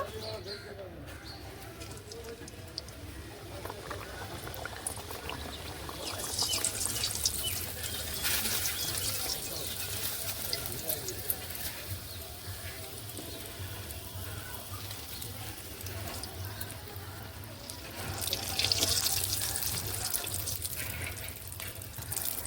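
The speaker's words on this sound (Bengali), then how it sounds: "তেলটা গরম হয়ে গেছে, কচুরিগুলো ভেজে নেব।" Fig and prawn stuffed kachuris frying in hot oil give a steady, dense sizzling hiss that swells in places, with faint bird coos in the background.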